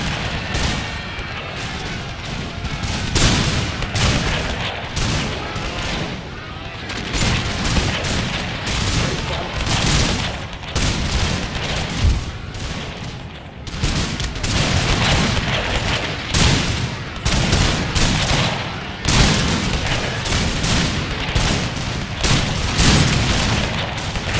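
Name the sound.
musket volley fire in video game Napoleon Total War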